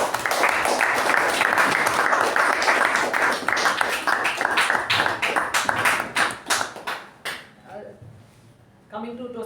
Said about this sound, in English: I would like to congratulate Toastmaster Mamta on successfully completing level 2, project 3 with a huge round of applause.